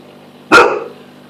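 A Siberian husky lets out a single sharp bark, close and loud, that decays quickly against a quiet background hum.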